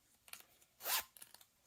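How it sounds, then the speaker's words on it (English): Zipper on a natural leather Louis Vuitton wristlet pouch with gold hardware, one quick close zip heard alone, with faint handling clicks and rustles before and after. "zipper"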